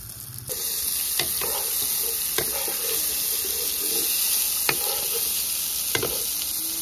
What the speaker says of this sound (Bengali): এক এক করে গরম তেলে দিয়ে দিচ্ছি বেগুনগুলো